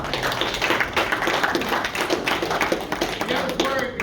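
Applause from a group at a bodyguard and martial arts training session, a steady patter of clapping that lasts a few seconds with dull thumps mixed in, fairly close, and the room stays busy throughout.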